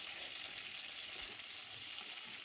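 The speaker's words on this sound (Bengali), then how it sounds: "মাছের এক পাশ তিরিশ সেকেন্ডের বেশি ভাজা যাবে না অবশ্যই তিরিশ সেকেন্ড পরে আরেক পাশ উল্টে দিতে হবে" Prawns frying in hot oil in a pan for malaikari, a steady, dense sizzle that holds at an even level throughout, close and alone with no voices.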